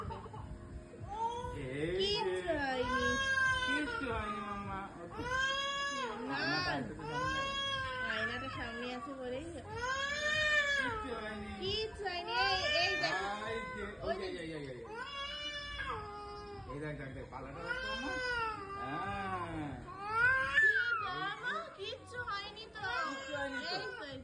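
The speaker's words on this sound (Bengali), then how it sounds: "এই যে ম্যাও এসছে ম্যাও কোথায় রে" A cat meowing repeatedly in long, wavering cries close by, with a person talking over and between the calls through most of the stretch.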